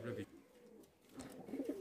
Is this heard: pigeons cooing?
yes